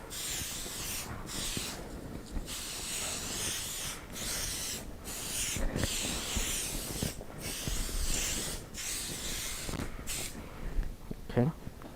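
505 basting spray hissing from an aerosol can onto a quilt in several steady bursts with short pauses, close and fairly loud, with a brief rustle near the end.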